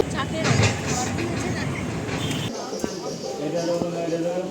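A train rumbles along steadily with clattering wheel noise, then the tone shifts to a quieter, more enclosed rattle with faint voices in the background.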